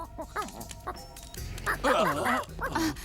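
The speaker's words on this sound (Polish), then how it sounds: "Zapchlony, śmierdzący kundel." A dog barks and yelps several times in quick, uneven bursts, close and loud, with some whining tones between barks, in an animated cartoon.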